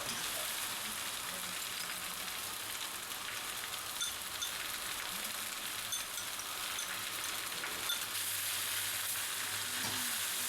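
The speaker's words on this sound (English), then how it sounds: "we can stir in our sauce ingredients now" Thai shrimp noodles and vegetables sizzle steadily in a hot pan while sauce is stirred through, giving an even, continuous frying hiss with soft scraping, no talk.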